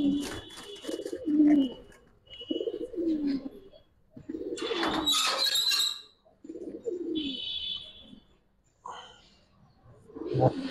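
Giribaz high flyer pigeons coo in repeated low, throaty bursts, close and fairly loud, between sharp rustles and flaps, with someone talking in the gaps.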